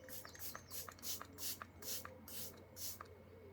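Face mist spritzed onto skin from a pump bottle: about eight quick, close, rhythmic spray bursts in a row, with soft handling sounds between them and no talking.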